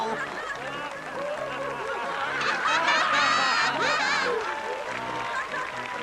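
A cartoon circus audience claps and laughs, a steady crowd of applause with chuckling rising in the middle, under a voice talking.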